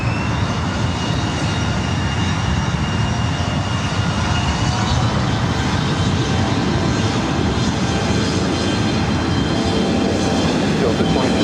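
A SkyWest Delta Connection CRJ-700ER jet taking off from runway 24 right at LAX, a loud, continuous engine roar that holds steady and dense throughout, with faint radio chatter beneath.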